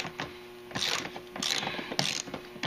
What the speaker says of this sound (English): Now to finish bolting in the floorboard, use these funky looking bolts.